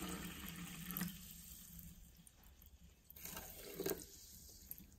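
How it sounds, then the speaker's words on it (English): Voss sparkling water from Norway poured into a small test cup, a faint splashing trickle with a couple of brief louder surges, quiet and close. "Let's pour some water in."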